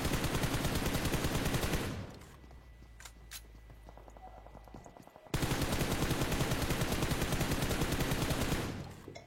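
Automatic gunfire in an esports video game match, long dense bursts of rapid shots that pause for a few seconds of quieter scattered sounds before another sustained burst resumes.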